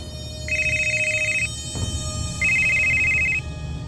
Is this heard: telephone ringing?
yes